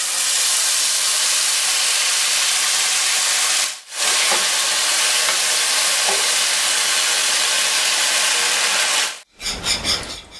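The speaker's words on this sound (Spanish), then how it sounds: "Pongo una cucharada de aceite en esta cazuela caliente y agrego el chile." Chile frying in a spoonful of oil in a hot clay cazuela, a steady loud broadband sizzle that runs almost unbroken for about nine seconds, with a brief dip near the start and a stir at the end.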